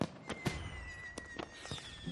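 Fireworks go off in a rapid string of sharp bangs and pops, with a thin whistling tone trailing across the bursts.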